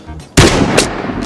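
A single loud gunshot rings out in the survival shooter game Vigor, an abrupt close blast with a rumbling decay, a faint second report trailing behind.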